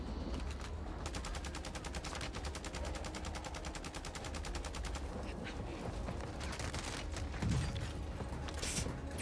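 Rapid automatic gunfire in the shooter game Warzone, a sustained rattling burst for several seconds with further shots and bursts continuing throughout at steady close volume.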